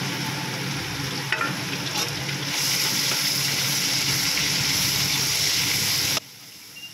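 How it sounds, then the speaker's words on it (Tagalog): Pork sautéing in a hot pan, a loud, close, steady sizzle and hiss with occasional stirring scrapes that rises after a couple of seconds, then drops abruptly near the end. "At habang ginigisa natin ang ating pork, titimplahan na rin natin ito"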